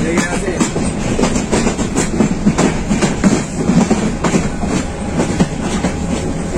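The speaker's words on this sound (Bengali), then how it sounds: "আমরা এখন কমলাপুর রেলওয়ে স্টেশন প্রবেশ করতেছি।" A Chittagong–Dhaka mail train rolling into Kamalapur railway station in Dhaka, heard from a non-AC cabin as a loud, steady rumble with continuous rhythmic clickety-clack of wheels on rail joints.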